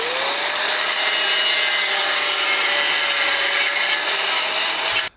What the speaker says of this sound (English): I think the Sawzall will just take the rest of that right out.